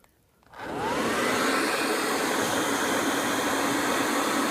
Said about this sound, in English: is a blow dryer with a pipe on it. Goes in there, and that supplies the air.